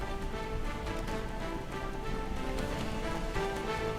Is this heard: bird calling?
no